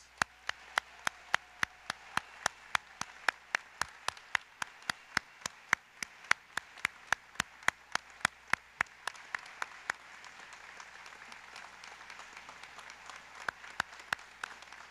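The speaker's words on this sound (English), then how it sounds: "A round of applause, please, for all of our graduates." Audience applause for graduates of a police academy class at a Frederick Police Department graduation ceremony: sparse, distinct individual claps ring out over a soft bed of general clapping, thinning out toward the end.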